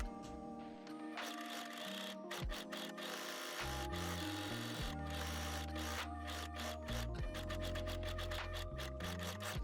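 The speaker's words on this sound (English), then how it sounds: "overlock the indicated edges of the back center panel, the front and back facings, and the back hem facing" An overlocker stitching along the pre-cut edges of garment panels, running in fast mechanical bursts with short pauses and speed changes between them, close and steady with no talking.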